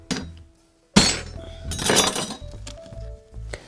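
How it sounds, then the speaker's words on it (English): A cinnamon stick cracked by hand and dropped into a green walnut nocino liqueur mix, giving a sharp close snap followed by clinking and rattling against glass, then quieter knocks. "I've got a cinnamon stick. I'm just gonna crack it here"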